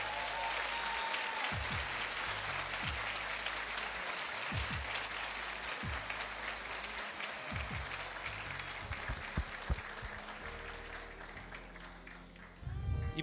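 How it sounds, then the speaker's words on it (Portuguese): Sustained applause from the audience at a university engineering graduation ceremony at UNICAMP, a dense, steady clatter of many hands filling the hall for about thirteen seconds before fading at the end. "Uma salva de palmas também para os nossos docentes."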